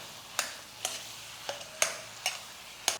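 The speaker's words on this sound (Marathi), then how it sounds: "हा बटाटा यामध्ये घालू आणि याला फोडणीमध्ये दोन मिनटं चांगलं मिक्स करूया" Mashed potato for vada pav being stirred into hot tempering, a low sizzle punctuated by five or six sharp spatula scrapes and taps at irregular intervals, close but fairly quiet, with no voices.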